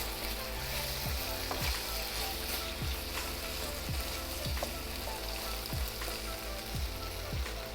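Seitan strips fry in a caramelizing sauce in a pan, a steady close sizzle with a few regular clanks of a utensil stirring through them, no voices.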